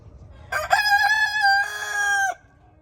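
A rooster on a farm crows once, loud and close, a long wavering call lasting about two seconds against a quiet background on a brisk day.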